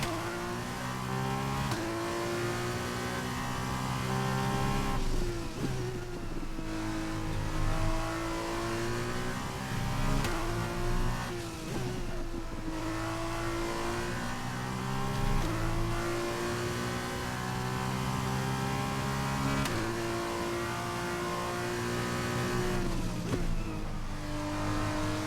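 Formula 1 car in F1 2021 lapping a circuit, its high-pitched engine screaming steadily with rising and falling revs as gears shift, loud and close throughout with no talk.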